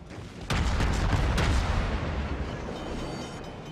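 Naval gunfire from a warship battle in World of Warships, a heavy booming salvo that erupts suddenly and rolls on as a loud sustained rumble, with a second blast layered in before slowly fading.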